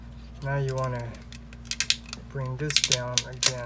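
Tight plastic parts of a Fans Toys Outrider (Trailbreaker) Transformers figure give a quick series of sharp clicks and snaps as they are forced into place during transformation, following a brief spoken instruction.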